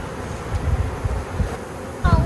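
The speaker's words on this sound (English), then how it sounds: "That's a lot of bees." A dense, low droning buzz of many honeybees swarming close by during transfer of a large swarm into a new hive, rising and falling in loudness with a brief louder surge near the end.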